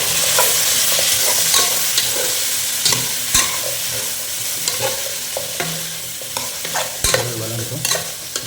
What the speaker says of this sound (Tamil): வதங்கட்டும். கொஞ்சம் ஃப்ரை ஆகும்.